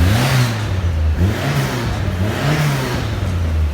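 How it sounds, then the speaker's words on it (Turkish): A Tofaş car engine revs up and down through its exhaust in several loud, throaty surges, close by. "Şöyle size bir egzoz dinletireyim"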